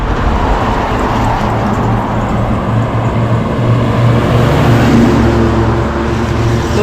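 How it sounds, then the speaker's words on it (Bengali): Steady highway traffic roars continuously, with a low rumble of cars and heavier vehicles moving past at a roadside stop along the route from Ho Chi Minh City toward Hoi An in Vietnam, loud and unbroken with no talking. "এখানে একটা হাইওয়েতে এসেছি"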